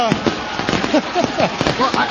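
Fireworks crackle and pop in rapid bursts at a UFC event, heard under and between nearby speech and crowd noise.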